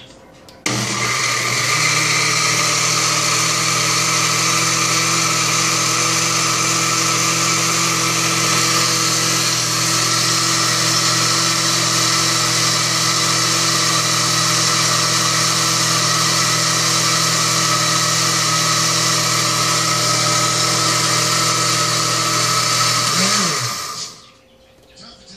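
A kitchen blender whirs steadily for over twenty seconds, mixing avocado flan ingredients with vanilla and a pinch of salt, loud and close before cutting off at the end.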